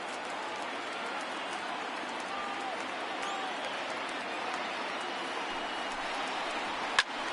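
A baseball video game stadium crowd of Yankees and Nationals fans makes a steady, unbroken roar throughout, with one sharp click near the end.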